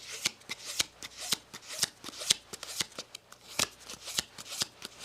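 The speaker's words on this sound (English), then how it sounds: "You take 3 aces on the top, 1 on the bottom, and now you hey-mo shuffle." A deck of cards given a hey-mo shuffle at close range: a rapid, steady series of crisp riffling bursts, evenly paced and with no voice over it.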